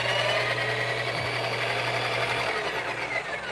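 A Breville Barista Express built-in grinder grinds coffee beans at a fine setting with a sharp, steady, high-pitched whirr and a low motor hum, close and continuous with no talking.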